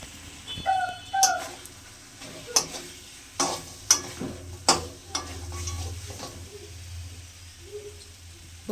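Katla fish head, fried and crushed, being sautéed with a spice paste in a pan for a cauliflower curry: a soft continuous sizzle broken by several sharp scraping and stirring knocks from a spatula.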